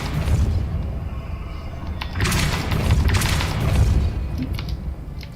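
A Depulso spell cast in the Hogwarts Legacy video game bursts out as a loud, sustained boom and rumble with crackling, mechanical clatter layered over continuous game ambience, swelling midway and holding for several seconds.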